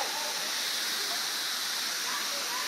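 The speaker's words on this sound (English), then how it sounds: "right now we are walking behind a waterfall" Waterfall on Petit Jean Mountain heard from the walkway behind the falling water, a loud, dense, unbroken roar of crashing spray filling the space.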